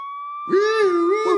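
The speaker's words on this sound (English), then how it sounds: "It's the sound of the police." A police siren sound effect from Phoenix Wright: Ace Attorney – Spirit of Justice begins with a steady tone, then swells into a loud, close, wavering wail.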